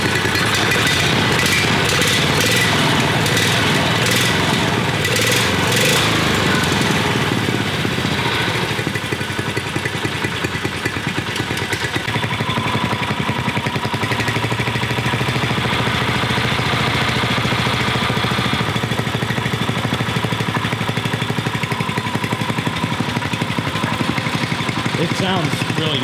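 A Subaru engine swapped into a Yerf Dog go-kart runs steadily and loudly throughout, a continuous close engine drone with voices talking over it at times.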